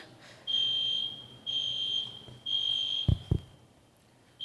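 A building fire alarm, set off by an accidental press of the alarm button during an event, sounds as loud repeating high-pitched electronic tones in long regular pulses, with a couple of thuds near the end.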